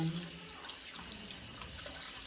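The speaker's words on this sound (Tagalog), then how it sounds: "Huhugasan ko siya para walang lasa." Leftover barbecue meat is rinsed under a kitchen tap, with a soft, steady stream of running water splashing quietly and no talk.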